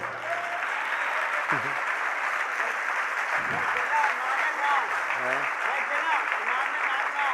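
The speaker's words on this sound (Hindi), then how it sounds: "बस ये तालियां बजाते रहो बस" Audience applause at a Jain religious discourse, steady dense clapping from a large crowd filling the whole stretch, with a faint voice or two surfacing underneath.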